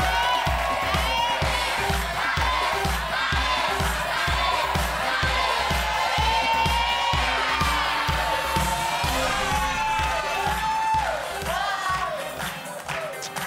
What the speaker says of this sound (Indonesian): Tepuk tangan yang meriah untuk Barcelonista.